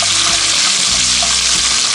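Onions and beef fry loudly in a Dutch oven, a thick, unbroken sizzle close up with a faint low hum underneath and no speech.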